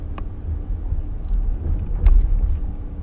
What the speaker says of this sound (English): Here I am driving